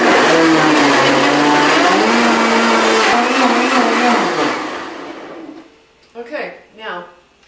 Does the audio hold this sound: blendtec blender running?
yes